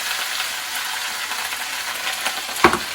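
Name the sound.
weenies and potatoes sizzling and popping in pan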